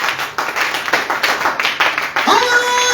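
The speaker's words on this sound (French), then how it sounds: "Let's clap for the Lord Jesus." A church congregation at a Sunday service claps rhythmically for Jesus, a loud, dense run of repeated claps, followed by a voice speaking as the clapping fades.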